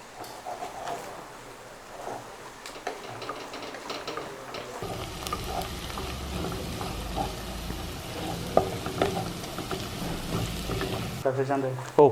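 Thin-sliced onions browning in a pan for a Kerala-style beef curry, a moderate sizzle with occasional stirring clicks and scrapes, close by, shifting in tone midway.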